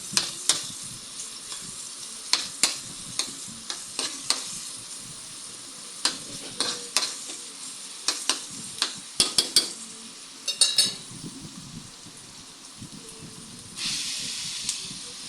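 Pork sautéing for dinuguan, a steady close sizzle and hiss broken by repeated sharp clicks and scrapes of a spatula stirring in the pan, with no talking.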